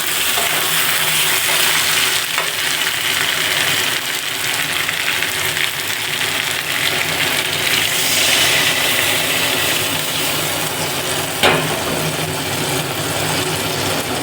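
Water poured into oil-fried spice paste in a small wok sets off a loud, continuous sizzle and crackle that stays close and steady, with a brief sharper spike near the end.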